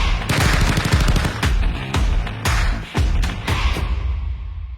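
Rapid machine gun fire rattles out in dense bursts of overlapping shots, loud and close, with brief gaps between volleys before trailing off.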